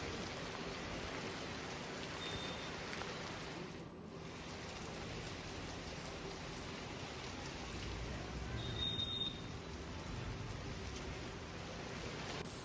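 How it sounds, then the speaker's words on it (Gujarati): Heavy rain driven by strong wind in the Danta area of Banaskantha, Gujarat, a steady dense hiss of downpour with gusty roar, continuous and close throughout with no voices. "દાંતા પંથકમાં ભારે પવન સાથે વરસાદ છે"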